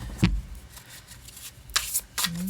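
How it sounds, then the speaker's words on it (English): A deck of tarot cards is shuffled by hand, with short riffling bursts separated by pauses, close and clear with no talking. "I'm going to give them a quick shuffle and split for both"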